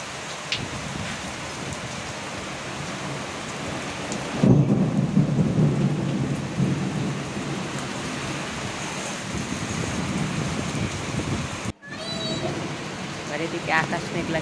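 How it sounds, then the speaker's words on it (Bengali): Heavy rain pours onto a veranda in a thick, steady roar, swelling louder partway through with a low thunder rumble, and a voice speaks briefly over the downpour. "প্রচুর বৃষ্টি হচ্ছে"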